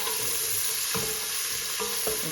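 Celery and carrots frying in ham grease in a pot, a steady close sizzle with a few clinks and stirring knocks from a utensil, no voices.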